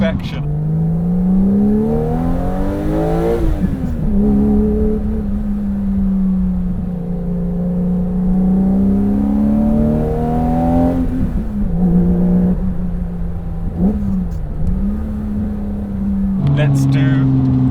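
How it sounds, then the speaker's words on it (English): A Porsche 911 restomod engine, Swiss made, blipping the throttle on heel-and-toe downshifts, a loud close burbling drone punctuated by several sharp revving rises and falls. "When you heel in tow on the downshift, just to blip the throttle."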